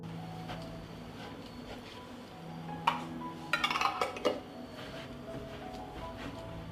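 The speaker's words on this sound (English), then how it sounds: "Close the jars with clean and new lids." Glass jars of preserved watermelon are closed with new lids, heard as a few close metallic clinks and a brief rattling scrape midway, with a faint background hum.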